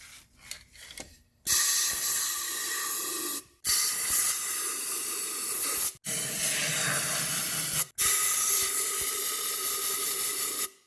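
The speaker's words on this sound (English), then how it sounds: "You want to stick your blower nozzle all the way in and blow it out so that way any of the crap that fell in there will fly right out." Compressed air blasts from a blower nozzle into holes on a 2002 Honda CR-V engine, four long steady hissing bursts separated by brief pauses, loud and close, with no talking.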